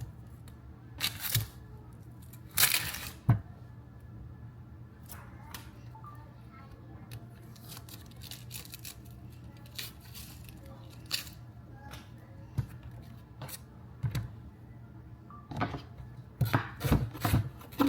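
A knife dicing half an onion into pieces on a cutting board, producing scattered sharp chops in small bursts with quiet pauses between them, close and fairly soft.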